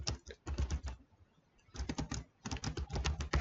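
Code being typed on a computer keyboard: quick, dense bursts of key clicks in two clusters separated by a brief pause of about a second, steady and close with no talking.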